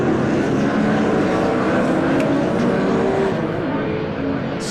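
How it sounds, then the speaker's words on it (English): Several different race car engines roar together at a rolling start at Donington Park, a dense, loud, continuous blend of revving motors with no break. "Stunning sound of this mixture of different engines"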